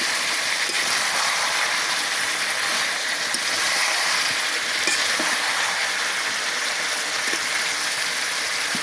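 Country chicken with potatoes frying in a pan, a steady dense sizzle with occasional faint clicks of stirring, close and even in level, no voices.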